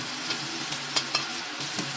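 Ginger sizzling in a little hot oil during a shrimp and bell pepper stir fry, a steady soft crackling hiss with a few small pops and scrapes, close and quiet with no talk.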